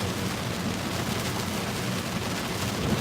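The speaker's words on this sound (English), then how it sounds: "it's raining bad out here" Heavy rain pouring down outside, a dense, constant hiss of drops on surfaces with a faint low rumble underneath and no voices.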